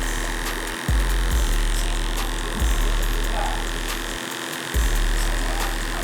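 Modified hair clipper cutting hair, running as a steady close electric motor hum that cuts out briefly twice and restarts.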